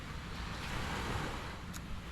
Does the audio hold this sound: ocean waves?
yes